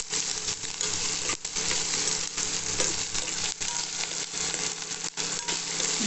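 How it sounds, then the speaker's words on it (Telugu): Onions frying with beetroot and potato in a pan, a steady close sizzle with occasional stirring scrapes and brief clinks, no talking. "ఒక 5 minutes ఉల్లిపాయలు మగ్గనివ్వండి"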